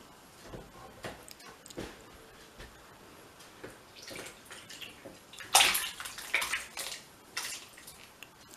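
Homemade elderflower cordial poured from a container into a bowl, a wet, sloshing liquid pour that swells midway, with splashy bursts and faint handling noises.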